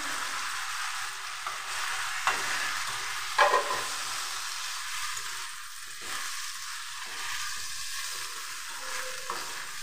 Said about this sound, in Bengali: এভাবে আমি 2 মিনিট লো টু মিডিয়াম করে ভেজে নিচ্ছি।